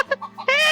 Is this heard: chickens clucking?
yes